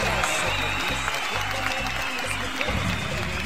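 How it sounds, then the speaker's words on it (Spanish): Applause for DJ Pato on a comedy radio show, a steady wash of clapping mixed with a low, thumping musical bed and a talking voice. "Ahí están los aplausos."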